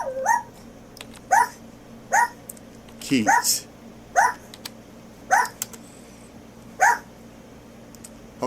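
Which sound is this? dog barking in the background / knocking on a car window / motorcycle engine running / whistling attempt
dog barking in the background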